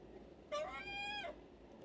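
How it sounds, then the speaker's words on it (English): A black house cat gives one drawn-out, wavering meow close by, lasting under a second against a quiet room background with no talk. "I've got my shadow kitty in here right now, and he decides to cry and talk to you"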